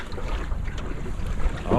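Wind rushing past a sailing dinghy on open water, a loud continuous blustery roar close to the microphone with faint water sloshing.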